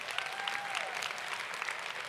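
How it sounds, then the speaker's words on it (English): An audience at a business seminar applauds mentors and coaches with dense, steady clapping throughout, moderately distant with a faint voice underneath. "So clap it up for all of the mentors and the coaches"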